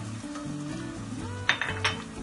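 Pepper paste sizzles in a pan alongside fried peppers for an okra and chickpea dish, giving a steady close fry with a low tonal hum and two bright metallic clinks of a spoon near the end.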